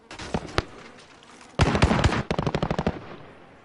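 Bursts of automatic machine gun fire in a PS4 first-person shooter match, a short burst followed by a longer sustained volley and then rapid evenly spaced shots, loud and close with no talk over it.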